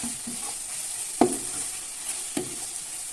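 Macaroni ingredients sautéing in a pan give a constant close sizzle, broken by two or three distinct spatula knocks and scrapes, with no voices.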